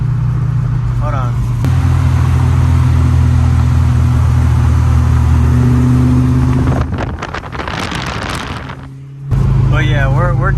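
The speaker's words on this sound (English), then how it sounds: "we're driving right now." A car driving on a road with a steady, loud engine and road rumble throughout, a brief dip in level near the end, and a voice speaking over it at moments.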